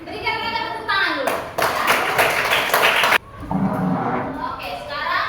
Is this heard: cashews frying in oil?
no